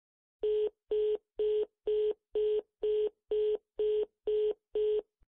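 A telephone gives ten short, evenly spaced dialing beeps of the same steady tone, loud and close, with no talk.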